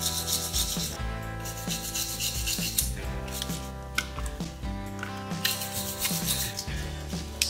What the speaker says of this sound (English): we're going to use a wire brush to clean the terminals so that we can remove them.